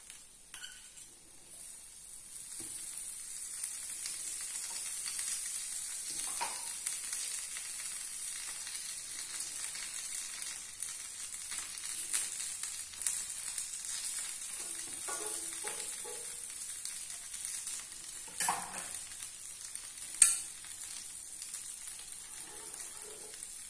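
Butter dosa sizzles steadily on a hot griddle, a continuous soft crackling hiss held at an even level throughout, with a few brief louder pops and scrapes near the end and no voices.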